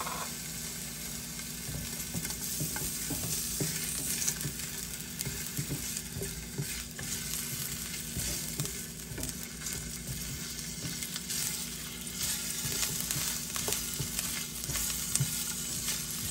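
Ginger sautéing in a pan gives a steady, even sizzle with light stirring scrapes throughout, close and moderately loud, with a faint background hum.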